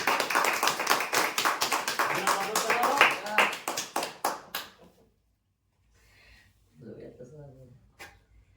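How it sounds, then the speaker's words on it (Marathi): Dense, loud audience applause at a prize lucky-draw event, sustained for about four and a half seconds before cutting off abruptly into near silence, then a brief stretch of talk. "जोरदार टाळ्या उद्यासाठी."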